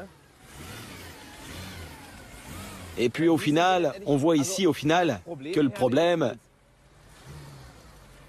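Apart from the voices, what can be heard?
6-litre V8 car engine revving in short bursts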